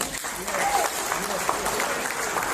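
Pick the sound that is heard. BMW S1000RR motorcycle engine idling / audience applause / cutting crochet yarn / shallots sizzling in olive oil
audience applause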